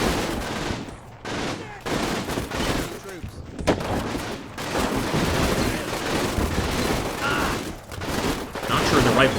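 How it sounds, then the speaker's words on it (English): Gunfire in a firefight in Combat Mission: Final Blitzkrieg, loud and sustained volleys of rifle and machine-gun shots with heavy blasts, nearly continuous and dense throughout. "Hell of a gunfight going on here."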